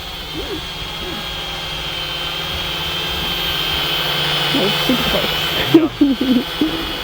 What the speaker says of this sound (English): Very, very quiet drone for brushed motors.